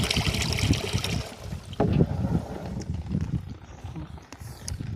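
Water rushes from an opened valve into a barrel on a farm, a steady close splashing flow with broadband hiss that continues throughout the clip.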